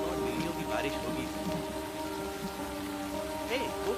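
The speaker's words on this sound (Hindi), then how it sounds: "बारिश बहुत तेज हो रही है।" Heavy rain pours in a film scene, a constant dense patter with steady tonal sounds layered beneath it.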